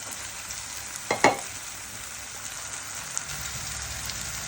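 Soaked masoor dal frying with cooked-down tomatoes in a pan: a steady, close sizzle with a couple of quick stirring scrapes near the start.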